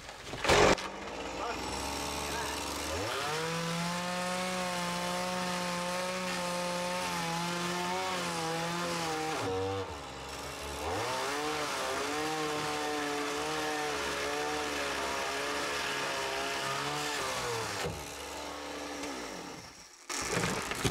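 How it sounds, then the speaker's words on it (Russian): A Stihl 180 chainsaw cuts wood while an old house is pulled apart for firewood, its engine screaming at high revs through two long cuts that break briefly near the middle and end, with voices faintly heard. "это 180-й штиль, пила несомненно хорошая"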